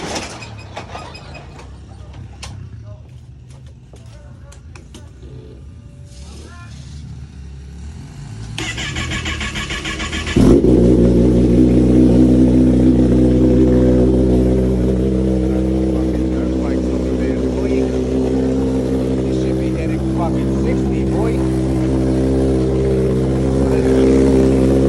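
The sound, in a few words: 2023 Kawasaki ZX-10R motorcycle engine starting and revving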